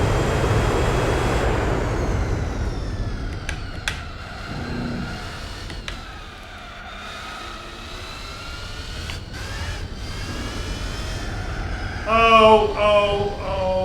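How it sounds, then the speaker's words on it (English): Supercharged car engine in Gran Turismo 4 racing gameplay, a steady high mechanical whine running under the motor drone for the whole stretch, with a brief louder burst of engine and tyre noise near the end. "sounds like a supercharger or something, a whine, pretty cool sounds"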